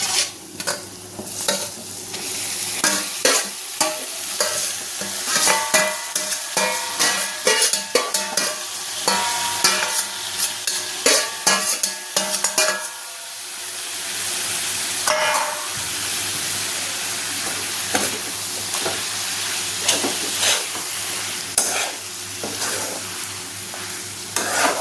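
Cooked bharangi vegetable tossed into a hot pan and stirred vigorously, rapid rhythmic scraping and clattering over a continuous sizzle, close and loud, easing into steadier frying partway through.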